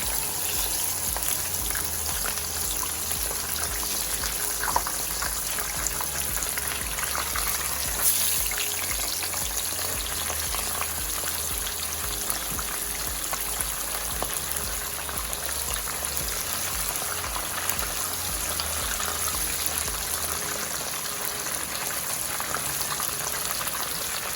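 Jamaican-style fish frying in hot oil: a steady, dense sizzle and crackle that holds evenly throughout at moderate level, with no voices.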